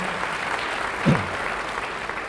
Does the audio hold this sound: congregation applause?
yes